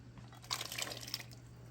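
Potatoes dropped into a pot of chicken soup broth, giving a short burst of soft splashing and dripping liquid over a steady low hum, fairly quiet and close.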